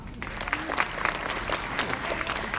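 An audience at a small-business award ceremony claps in a steady, dense round of applause, close and sustained throughout.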